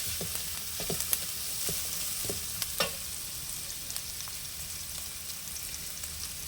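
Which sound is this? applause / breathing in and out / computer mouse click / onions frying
onions frying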